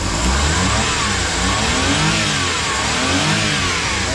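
A mini van engine revs steadily and loudly up close, a continuous mid-pitched roar with slight rises and falls, no voices.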